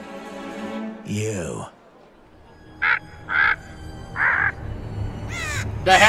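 Several harsh crow caws sound out as effects in an animated RWBY episode, short separate calls spaced through the scene, mixed with voices from the show.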